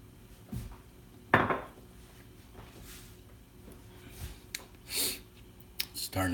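Vegetable sinigang soup ingredients are stirred in a pot, with scattered clinks and knocks of a utensil against the pot and soft shuffling sounds at close range.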